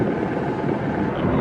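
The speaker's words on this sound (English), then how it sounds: "there's a helicopter right there" Helicopter flying over Chicago near Navy Pier, a brief rumbling drone mixed with wind and outdoor noise in a short stretch.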